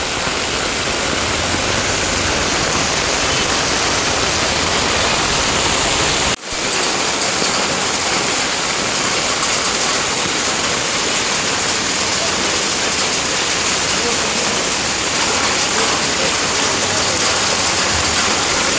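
Heavy monsoon rain pours down in Nalasopara, Mumbai, with floodwater rising over the road, making a loud, dense, unbroken roar with only one brief dip partway through.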